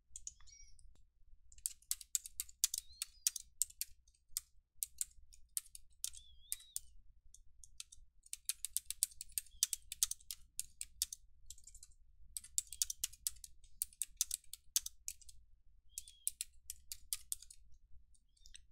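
Fingers type a template name into a search box on a computer keyboard, with bursts of quick, light key clicks in rapid runs broken by short pauses, close and fairly quiet over a faint low hum.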